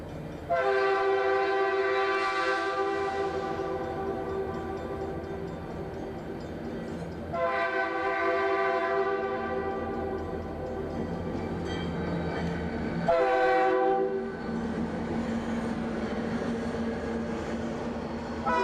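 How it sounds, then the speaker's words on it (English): A BNSF freight train passes through Stevens Pass at night, sounding three long, loud multi-tone horn blasts spaced several seconds apart over a steady rail rumble. "the trains roll through all night long."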